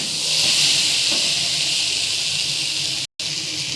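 Eggplant and other vegetables frying in spices in a pan, a loud continuous sizzling hiss close by that holds steady throughout, broken once by a brief moment of silence near the end.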